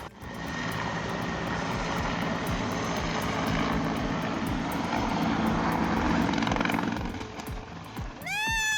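A steady, droning Bell 412 helicopter engine with a chopping rotor texture holds loud for several seconds during wildfire fighting in Portugal, then fades abruptly near the end.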